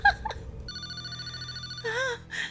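A telephone rings in an X-Files episode, a steady electronic trill between short stretches of voices, clear and moderately loud.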